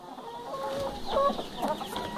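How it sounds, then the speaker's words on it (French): A brooding hen clucks softly inside a henhouse, a few low, close clucks and murmurs rising and falling over a steady background hum. "j'ai une poule ici qui a recommencé à couver"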